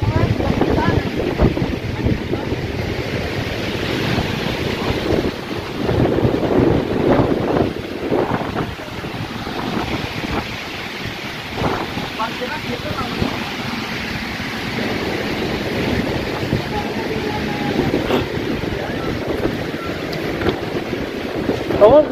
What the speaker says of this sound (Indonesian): Anginnya lebih kencang di luar mah.